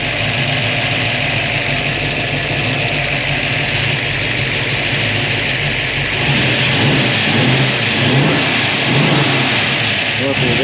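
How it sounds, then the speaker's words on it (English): A classic 1960s–70s Ford V8, either a 1966 F100 or a 1973 Mach 1 Mustang with sticky distributor advance plates, idles loudly up close and then rises in a sluggish rev, with voices faintly underneath. "It's a little lazy to rev up, but I'll wait till it fully warms up"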